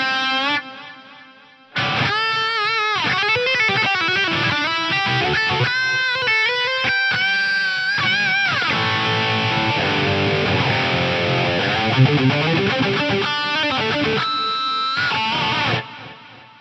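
Electric guitar played through an Eventide UltraTap delay pedal with the taper control turned down, bright distorted chords and notes smeared into dense, shimmering repeats that sustain for about fourteen seconds, then cut off abruptly.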